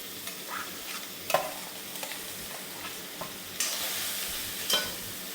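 Carrot and papaya frying in a pan for a Kerala thoran, a soft steady sizzle broken by several scraping stirs of a spoon, close and fairly quiet with no talk.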